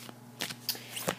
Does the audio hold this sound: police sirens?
no